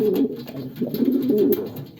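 A pigeon coos close by, low throaty repeated calls filling the short stretch, the day after the breeding pair was put together.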